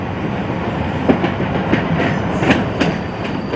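A Class 45 diesel locomotive runs in on the rails near Heaton, giving a loud, steady rumble with rhythmic wheel clicks over the rail joints and no voices.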